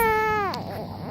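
A baby's short wailing cry rises and then breaks off into a whimper, close and fairly loud.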